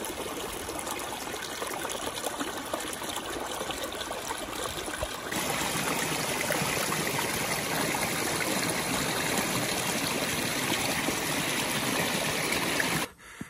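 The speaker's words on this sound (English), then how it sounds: "You do get several creek crossings on this hike, which is really nice," A creek flowing across a hiking trail, a steady close rush of moving water that grows louder partway through and continues unbroken with no voices.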